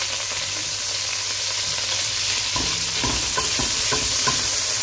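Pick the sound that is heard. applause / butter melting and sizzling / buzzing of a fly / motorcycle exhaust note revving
butter melting and sizzling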